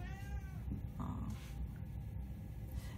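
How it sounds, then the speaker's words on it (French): A cat meows a few times, fairly faint, against a constant hiss of background noise, with no one talking. "en fait voilà le chat"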